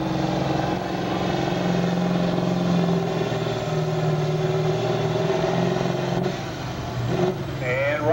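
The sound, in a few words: Massey Ferguson 1155 tractor with V8 engine revving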